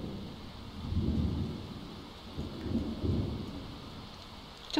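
Rain and rolling thunder in The Sims 4, low rumbles swelling twice over a steady hiss of rainfall, with no voices.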